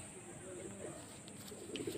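Old-line Shira pigeons give soft, low cooing murmurs, faint and somewhat distant against a steady background hum.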